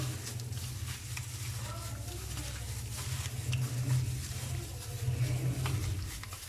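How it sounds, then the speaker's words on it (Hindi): Fish fry marinade is worked together with added food colour, giving a continuous wet stirring and squelching texture over a steady low hum, with occasional light clicks of utensil against the bowl. "इसे अच्छे तरीके से मिक्स कर देंगे"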